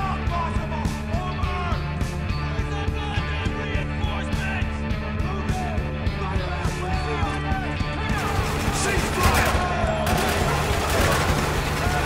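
Gunfire in the video game Spec Ops: The Line, a steady run of repeated shots over a droning game soundtrack, with denser bursts and shouting toward the end.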